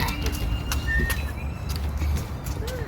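Several people mimic birds with cooing, pigeon-like calls and a few whistled chirps, scattered and overlapping across the stretch, the voices near and moderately loud over a low rumble.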